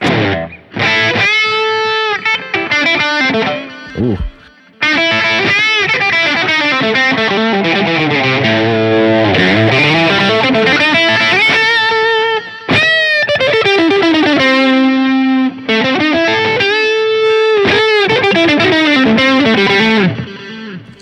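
Electric guitar through a Line 6 POD GO preset with heavy distortion and chorus but no boost, sustained chords and bending lead lines played loud and continuous with a brief pause, one short vocal exclamation.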